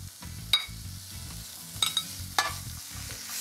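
Spinach is added to a hot pan and stirred while it sizzles at a soft, steady level, with a few sharp clinks and scrapes of a utensil against the pan.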